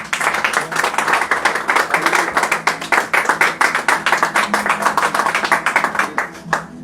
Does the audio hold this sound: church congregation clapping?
yes